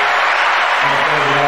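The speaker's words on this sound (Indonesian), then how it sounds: "tepuk tangan lagi" A small podcast audience claps, a dense, close burst of applause that runs through the whole moment, with a low hum entering partway through.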